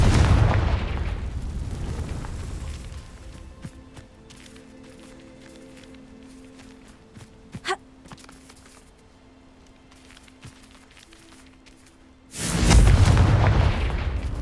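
Spell blasts from the Bombarda and Confringo curses in the Hogwarts Legacy video game: a loud, booming explosion bursts out at the start, followed by quiet ambience with faint hums, then another heavy blast near the end.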